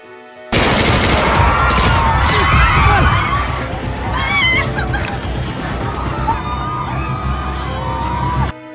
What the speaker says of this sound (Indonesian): Dari belakang Borny mencoba menembak Arya, namun tembakannya meleset, dan orang-orang di sekitar berhamburan.